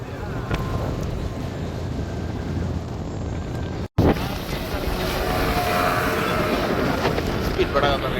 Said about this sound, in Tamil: ஸ்பீட் படகு ரெண்டு ஸ்பீடில் போகுது.